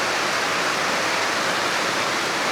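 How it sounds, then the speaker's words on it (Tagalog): Heavy rain pouring during Typhoon Basyang in the Philippines, a loud dense continuous roar with no gaps or voices. "As you can see, malakas talaga yung ulan."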